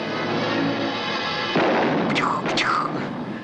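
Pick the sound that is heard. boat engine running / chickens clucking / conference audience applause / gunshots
gunshots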